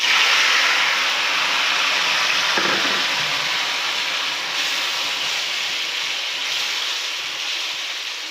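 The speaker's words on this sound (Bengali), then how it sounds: "দেখুন টমেটোগুলো ফুটতে শুরু করেছে" Tomatoes begin to bubble and boil in a pan for tomato jelly pickle, giving a steady loud hiss with no talking.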